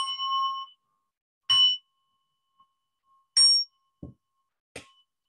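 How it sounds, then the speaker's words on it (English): A small bell rings at the end of Buddhist chanting, with four clear, bright dings spaced a second or two apart. Each strike rings briefly and fades into quiet. "The bell is happy, the bell is happy, the bell is happy."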